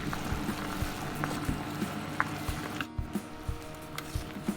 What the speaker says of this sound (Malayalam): ഇനി ഹൈ ഫ്ലെയിമിലിട്ട് തിളപ്പിച്ചുകൊണ്ടേ ഇരിക്കണം.